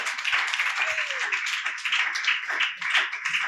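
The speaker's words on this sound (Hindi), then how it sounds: "आप तालियां बजा सकते हैं।" Light applause from a church congregation at a Friday meeting, a thin patter of clapping hands with a brief voice cutting through, moderately near and fairly soft.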